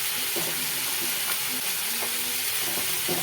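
Chopped jackfruit seeds fry in a pan with onion browned to pink, a steady soft sizzle with faint stirring clicks and scrapes now and then, close and continuous.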